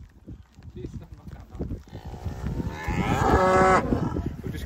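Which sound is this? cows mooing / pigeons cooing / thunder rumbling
cows mooing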